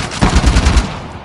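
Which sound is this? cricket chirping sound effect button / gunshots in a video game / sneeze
gunshots in a video game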